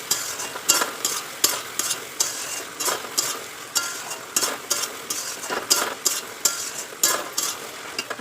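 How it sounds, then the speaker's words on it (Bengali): Chili chicken sauce of soy sauce and chili sauce frying in a pan and being stirred, with repeated scraping strokes and a steady sizzle running close and loud throughout, no voices. "সয়া সস আর চিলি সস, যেটা আমি কিন্তু তার সাথে মিক্স করে রেখেছিলাম, এটা আমি এখন দিয়ে দিলাম। দিয়ে এটাকে আমি এখন ভালো করে নাড়াচাড়া করে নেবো।"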